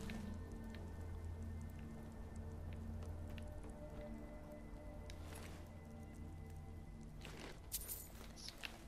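Rain patters steadily in Skyrim, a soft, even hiss of drops on surfaces with a few faint drips, heard alone at low level throughout.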